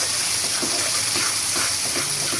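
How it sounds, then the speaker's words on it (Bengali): Fish frying in oil in a pan in a home kitchen: a steady, loud sizzling hiss runs throughout with faint crackles and pops, no talk. "আর এই যে পাশেতেও মাছ ভাজছি"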